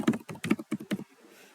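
A computer keyboard is tapped in a quick burst of about six keystrokes as a password is typed, then falls quiet.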